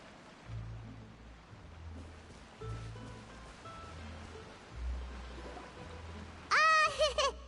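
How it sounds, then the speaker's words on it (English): Rain falls in Genshin Impact as a steady, soft wash of hiss beneath a low, droning musical hum, with a sharp bright chirping call breaking in near the end. "Oh, it's raining."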